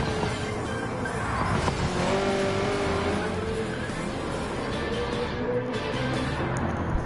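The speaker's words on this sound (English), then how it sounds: "Look at that Commodore go." A Holden Commodore Supercar at Bathurst accelerating at full throttle, a loud sustained engine roar with rising pitch through the gears, with occasional radio talk over it.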